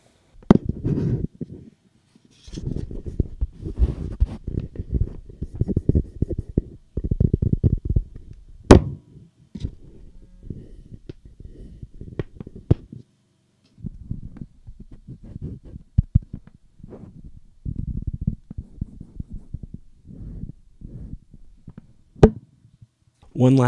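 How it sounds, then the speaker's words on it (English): Handling noise on Behringer XM8500 and Shure SM58 dynamic microphones, a series of dull thumps, rubs and knocks in irregular bursts, loud and close, with quiet gaps between. "Let's do a little handling noise comparison."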